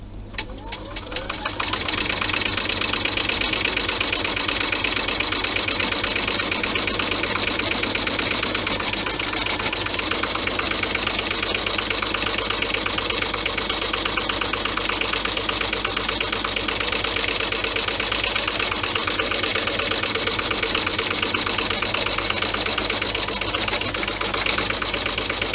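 A sewing machine stitches vinyl seams on a Santa bag, a continuous fast mechanical whir and rapid needle chatter running steadily and close, with no talking.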